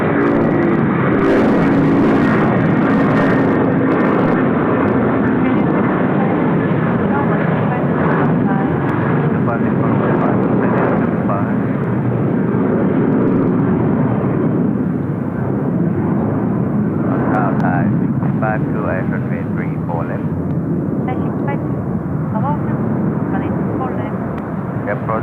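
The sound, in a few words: airplane at Seoul Incheon Airport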